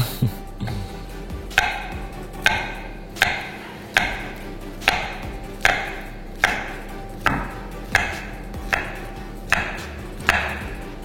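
Knife chops through food on a cutting board while banoffee is prepared, about a dozen crisp, evenly spaced strokes, each with a short decay, close and distinct with no voices over them.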